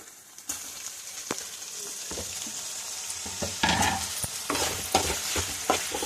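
Tomatoes go into a pan of Guntur-style goat blood mutton fry, and the close, steady sizzle of frying runs under repeated scraping strokes of a stirring spoon, with no talking.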